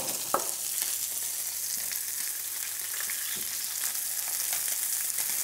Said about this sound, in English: I'm just swizzing the oil around the pan just so it coats the bottom of that fish evenly